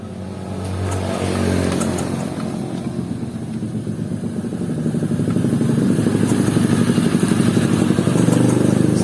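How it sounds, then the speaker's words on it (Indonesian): A Honda Supra 125 motorcycle with a dead battery and no ignition spark is kick-started by hand, giving a steady rhythmic mechanical churning that grows louder over several seconds. "jadi kita engkol secara manual."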